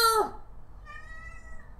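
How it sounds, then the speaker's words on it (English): A pet cat gives a single short meow, followed by a faint, sustained high tone over quiet room noise. "meow! Yeah, that's my baby cat."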